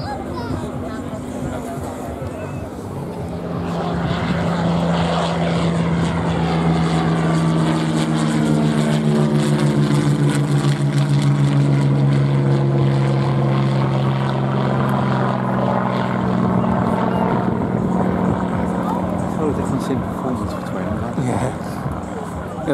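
A propeller aircraft with a powerful Daimler-Benz engine flies past at an airshow, its loud, sustained droning roar swelling and holding steady for most of the stretch, with people talking nearby over it.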